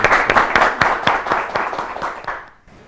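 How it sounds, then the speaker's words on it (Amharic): An audience claps for students answering questions on an Ethiopian children's TV quiz show, a steady burst of applause that tapers off and fades out near the end. "አጨብጭቡላቸው"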